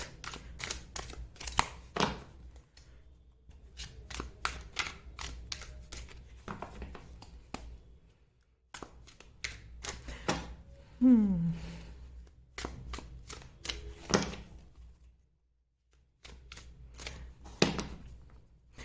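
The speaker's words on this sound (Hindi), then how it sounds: "ओके, नहीं, दोबारा शफल करेंगे, मैं फिर लूंगी कार्ड्स।" Tarot cards are shuffled and handled up close, giving irregular bursts of crisp snaps and riffles broken by short pauses.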